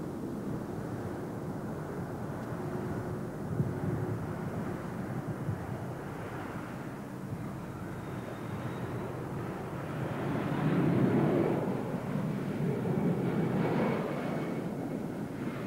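Boeing 757 jet airliner at Bromma Airport, a steady broad engine roar that holds throughout and swells louder near the end, with no voices present.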